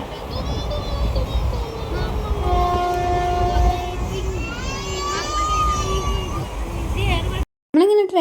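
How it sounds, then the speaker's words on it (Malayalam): A passenger train rumbles along at speed with a loud, continuous roar, and a drawn-out horn tone sounds midway. Voices are faintly heard aboard. "നമ്മളിങ്ങനെ ട്രെയിനിൽ യാത്ര ചെയ്യുമ്പോൾ"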